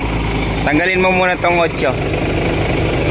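A Honda Cub motorcycle engine idles steadily in a repair shop during suspension work, a constant low rumble running beneath people talking.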